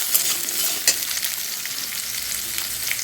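Chopped vegetables including pumpkin and carrot frying together in a pan, a loud continuous sizzle with a couple of brief scrapes from the spatula, close and without voices.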